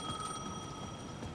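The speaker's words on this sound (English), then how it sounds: "The payphone at the edge of the plaza was ringing again." A payphone rings at the edge of a plaza in the video game Alan Wake 2, a steady electronic ringing tone held throughout a short moment over a dull ambient bed.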